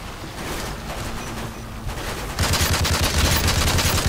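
Multiplayer gunfire in Call of Duty: Modern Warfare 3 keeps up as a dense crackle of rapid shots, growing louder and heavier in the second half, with no voices.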